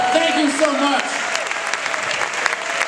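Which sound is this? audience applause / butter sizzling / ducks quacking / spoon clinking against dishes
audience applause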